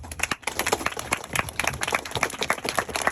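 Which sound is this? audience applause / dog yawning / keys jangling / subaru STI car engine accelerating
audience applause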